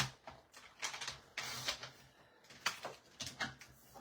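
Scissors snip through a small square of paper, about one and a quarter inches per side, in a short run of crisp close cuts with brief pauses between them.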